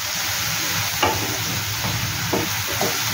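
Onions frying in ghee with garam masala in a pan, a steady low sizzle with a few soft scraping stirs, close and without talk.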